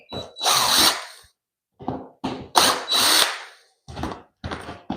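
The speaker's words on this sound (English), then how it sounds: "Now I'm gonna remove those two screws." A power drill backs out drywall screws in several short whirring bursts with brief pauses between, loud and close, with no talking.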